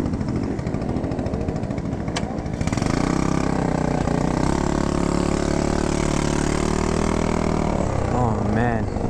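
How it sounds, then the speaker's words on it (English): At a car meet, cars doing donuts make a loud, steady engine roar that swells into a sustained high-revving drone, with a voice talking over it. "These guys are just doing donuts out there."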